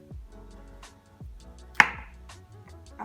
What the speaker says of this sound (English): cut the cantaloupe into two pieces or smaller pieces